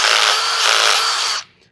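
A drill press spins its bit with a loud, steady whine that holds for over a second, then stops abruptly, leaving near silence.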